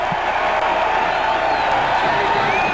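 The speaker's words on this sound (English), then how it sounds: "the crowd at this point getting involved" A football stadium crowd at a 1989 VMI versus Citadel game cheers after a big play, a steady, broad roar that holds loud and unbroken throughout.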